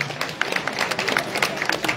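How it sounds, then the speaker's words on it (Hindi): An outdoor village gathering at a chaupal during a BJP candidate's campaign event, where a crowd applauds to welcome a guest. Dense, loud, continuous clapping fills the whole stretch. "आप तालियां बजाकर इनका स्वागत करता हूं"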